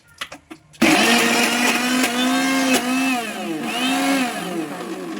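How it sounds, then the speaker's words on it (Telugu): A mixer grinder roars loudly as it coarsely grinds soaked lentils, starting abruptly after a few light clicks. The motor pitch wavers and dips as the thick batter catches and frees. "మధ్య మధ్యలో స్పూన్తో తిప్పుకుంటూ నీట్గా మొత్తం గ్రైండ్ చేసుకోవాలి"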